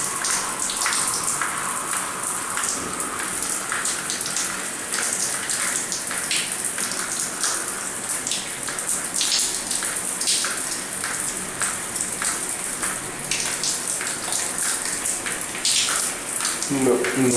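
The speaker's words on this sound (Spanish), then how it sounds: "ducha funcionando" A working bathroom shower runs with steady hissing, spattering water throughout, moderately close and continuous, with no talk over it.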